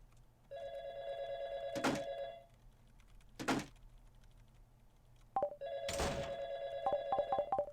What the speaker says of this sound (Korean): 저거 전화기 아니야?